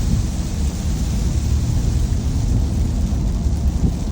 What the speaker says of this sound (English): So it's pouring rain here.